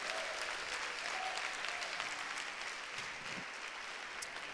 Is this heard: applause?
yes